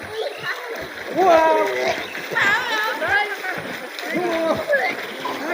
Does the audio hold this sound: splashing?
yes